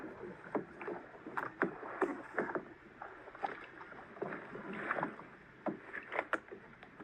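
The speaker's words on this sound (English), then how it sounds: "watch how simple it is when he's able to board the kayak this time" A person hauls themselves out of cold water onto a kayak, with close splashes, sloshing and hull knocks in irregular bursts, some louder surges, and no talk.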